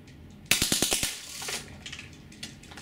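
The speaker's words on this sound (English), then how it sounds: "Okay, 6-round bursts in a higher power, I mean higher rate of fire." A Drozd Blackbird BB machine gun running on HPA fires one quick burst of about six sharp shots, loud and close, followed by fainter rattling and impacts.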